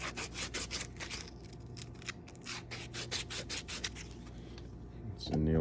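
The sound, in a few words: sanding inside edge of silver quarter coin ring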